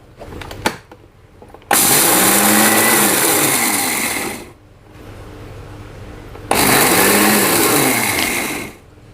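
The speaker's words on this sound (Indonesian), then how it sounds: "Pertama saya akan blender kasar dulu ya untuk ketumbar ini" An electric blender coarsely grinds coriander seeds for a fried beef dish in two loud bursts, each several seconds long with a rattling whir, separated by a short pause.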